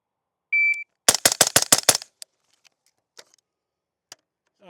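A BCM rifle fired at 7 yards, a tight burst of about six loud, sharp shots in quick succession right after a shot-timer beep, followed by faint clinks and near silence.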